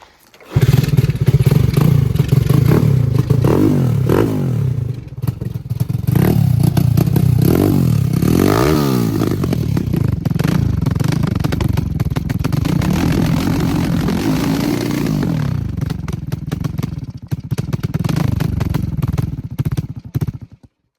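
A motorcycle engine in a Finnish garage catches and revs hard, loud and close, with rising and falling throttle sweeps and metallic clatter running for about twenty seconds without a break.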